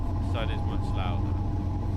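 A train engine rumbles low and steady inside the cab of a train simulator video game, one side of the cab being the louder one near the engine, continuous and droning throughout.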